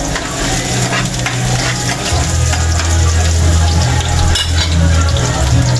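Ginger frying in a hot pan for pork adobo, stirred steadily, giving a loud continuous sizzle with scraping stir strokes over it, close and unbroken.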